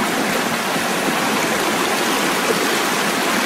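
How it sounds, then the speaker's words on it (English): A fast-flowing river after a night of heavy rain near Vang Vieng, Laos, rushes in a dense, steady roar of churning water, loud and close with no pauses or voices. "You can see the water is quite fast flowing."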